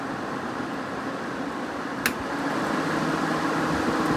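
An early 1960s Welbilt 5,000 BTU slim window air conditioner runs with its fan on high, a loud, steady rushing hum with one sharp click midway, after which the roar grows slightly stronger.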